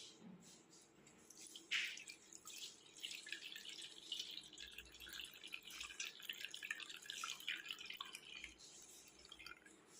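Milk cooled after boiling, with the skin on top, being strained through a sieve while making caramel pudding: faint trickling and dripping liquid with a small clink near the start, quiet and continuous.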